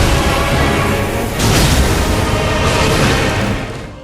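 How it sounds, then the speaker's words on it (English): Midra, Lord of Frenzied Flame in the Elden Ring DLC, slams the ground to set off a huge frenzied flame explosion: a loud, dense, roaring blast that swells midway and keeps rumbling for seconds before easing off, with no voices. "He rises into the air and slams the ground, which causes a big explosion of frenzied flame."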